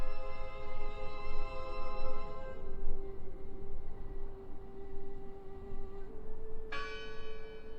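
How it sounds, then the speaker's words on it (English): A large bell tolls in the video game Draugen, one long resonant strike humming and fading over a rumbling ambient bed, then a second strike rings out clearly near the end. "Listen! The bell! They're still in there!"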